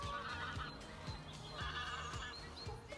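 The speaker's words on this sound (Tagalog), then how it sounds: "Ang ano pa, ingay pa ng mga ibon," Birds honk and call repeatedly around the lake at Haysden Country Park in Kent, a busy overlapping chorus of goose-like honks at moderate distance over outdoor ambience.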